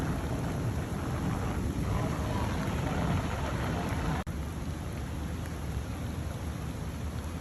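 Steady heavy rain pours through a June rainstorm in the center of Springdale, Utah, a dense continuous wash of noise with one sharp crack or thump partway through.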